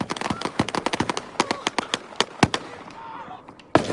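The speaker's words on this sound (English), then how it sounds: "Heard the gunfire there." A rapid volley of sharp gunshots rings out during a police shooting in news footage. Dozens of cracks fire in quick irregular bursts, loud and slightly distant, then thin out into a pause before one more shot.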